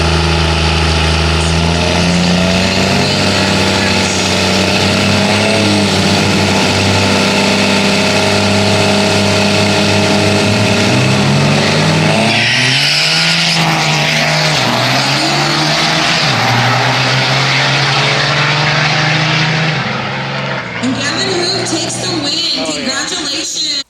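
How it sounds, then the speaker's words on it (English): A 1992 Dodge diesel truck roars down the strip at a diesel drag race, its engine loud and close, revving hard through several gear changes with a brief drop in pitch near the end. "In the Mr. Dent lane is Gavin Moon out of Walnut Grove, Missouri in his 1992 Dodge"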